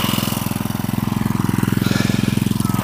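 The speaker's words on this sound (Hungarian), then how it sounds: "A kis fűnyírócska működött." A small lawn mower engine runs close by with a steady, rapid chugging pulse, loud and continuous in a garden.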